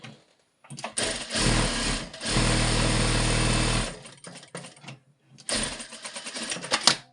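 A sewing machine stitches along an A-line skirt hem in two close bursts, a long steady run followed by a shorter one, loud and mechanical with brief quiet gaps between.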